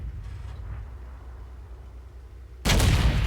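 A tank cannon in a military video game fires a single loud, heavy boom that cuts in abruptly after a low rumbling idle and stays sustained to the end.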